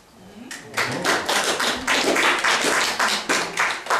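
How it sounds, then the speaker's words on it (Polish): Audience clapping at a literary word-battle event at a Polish festival, a burst of applause that swells after a quiet start and holds steady, with voices mixed in. "Wielkie brawa dla Piotra."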